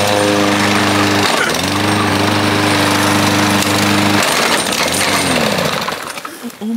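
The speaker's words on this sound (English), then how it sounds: "Crocs meets lawnmower." A lawnmower engine runs loud and steady with a droning hum, then shifts into a rougher, grinding roar as it chews through Crocs foam shoes, the pitch wavering before the sound tails off near the end.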